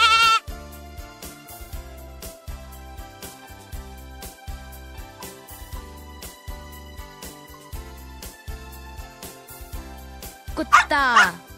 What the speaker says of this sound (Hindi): मेमना